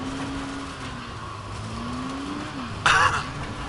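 A car in the video game Dying Light hums along with an engine tone that rises and falls in pitch, steady and moderate, broken near the end by a brief louder rushing burst.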